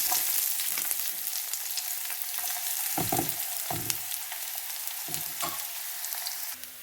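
Onion frying in oil with fennel seeds, a steady crackling sizzle with bursts of stirring and scraping in the pan, close and fairly loud, with no voices.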